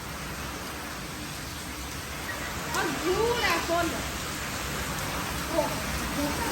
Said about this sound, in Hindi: इतनी तेज बारिश है कि आवाज ही कुछ नहीं सुनाई देती